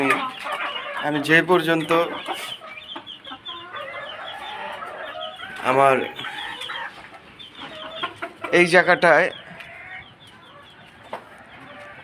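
Domestic chickens cluck and squawk in a farm coop with guinea fowl, with repeated loud bursts of clucking rising over steady background hen chatter while someone talks nearby.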